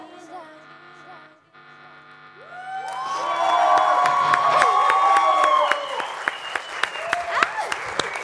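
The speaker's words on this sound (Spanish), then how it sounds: "Un fuerte el aplauso" A loud burst of studio audience applause and cheering at a Radio Disney Bolivia studio session swells up after a stretch of tonal background sound, with whoops and scattered claps continuing.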